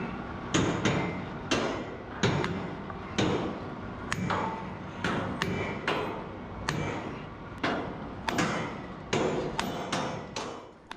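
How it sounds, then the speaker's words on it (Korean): Repeated sharp metal hammer blows ring out at an irregular pace as steel pins are driven into the mast sections of a tower crane at a high-rise apartment construction site, each strike loud and close with a ringing decay. "그 다음 작업은 홈에 핀을 넣어 고정하는 망치질."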